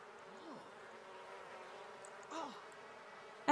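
Bees buzz around a beehive in The Sims 4, a steady drone with faint whirring passes and a louder burst near the end, heard without any talk.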